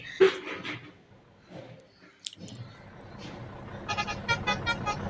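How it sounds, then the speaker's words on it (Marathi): A truck horn toots in a quick series of short, bright pulses near the end, following scattered clicks and rustling, on a Kolhapur to Nagpur highway journey. "हॉर्नचा आवाज भारी वाटतं"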